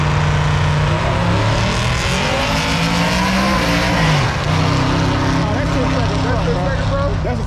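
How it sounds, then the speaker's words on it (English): A turbocharged Ford Coyote V8 truck accelerating hard at a truck meet, its engine note climbing loudly through a gear change, close and dominant, with people talking excitedly over it. "He hit the turbo."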